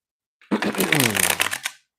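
A deck of cards shuffled during a meditation session gives a short, bright riffle lasting about a second, heard close, with a voice sounding over it.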